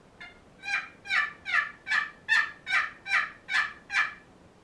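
Turkey call device imitating a turkey, nine evenly spaced gobbling yelps struck in a steady rhythm, fairly close and clear with no talking.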